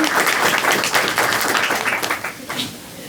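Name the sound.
audience applause for presenters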